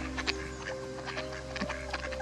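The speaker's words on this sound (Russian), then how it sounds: "уточка селезня гонит" Ducks quack in short repeated calls while being fed beside swans, moderately close, layered over a steady low background hum with bits of rustling.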